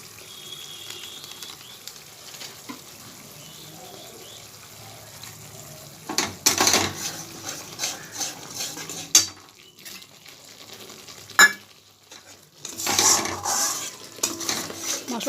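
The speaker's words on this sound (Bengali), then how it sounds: "মশলাটা একটু কষানো হোক।" Garam masala sautéed and stirred in a pan for a potato and pointed gourd curry: a quiet stretch, then bursts of sizzling with scraping spatula strokes and clattering cookware, with brief pauses between.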